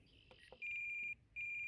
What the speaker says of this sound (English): Volts, smart battery alarm.